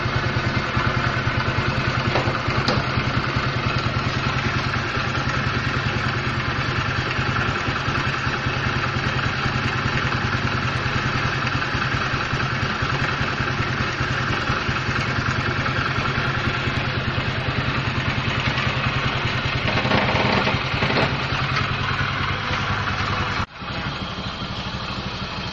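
A carbureted motorcycle with an electrical fault idles steadily at close range, a constant low mechanical chug with light clatter, before the engine note drops near the end.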